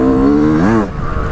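A 2022 Yamaha 125 YZ two-stroke dirt bike pulls away in second gear, its buzzing engine note climbing in pitch before cutting off sharply as it moves off.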